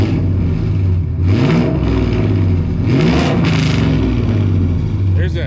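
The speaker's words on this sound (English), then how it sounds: "Let's give it a couple revs here." A car with an LS V8 and Loudmouth exhaust revs up twice, each rise swelling into a loud, rough, low throb before dropping back to a steady idle, heard close by.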